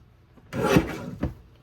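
A paper trimmer slices through stacked cardstock in two quick, close strokes: a longer rasping cut, then a shorter scrape, with no talking.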